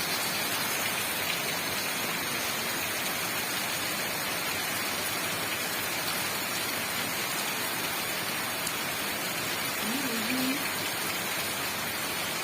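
Steady, dense rain hissing down on surfaces, a constant even wash of noise with no pauses or voices.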